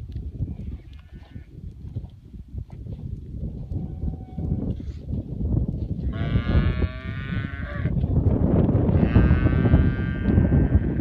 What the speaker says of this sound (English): Solid group of cows.